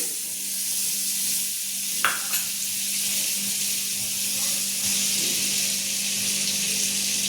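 Butter sizzles in a pan on the stove, a steady close hiss with a constant low hum beneath and a faint clink or scrape partway through, continuing without any talk.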